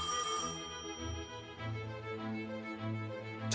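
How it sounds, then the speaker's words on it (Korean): A telephone rings into a 1945 Seoul office of the Korean Language Society, a sustained ringing tone heard close and fairly loud, blended with steady tonal background music throughout. "1945년 9월 8일 조선어 학회 사무실로 한 통의 전화가 걸려옵니다"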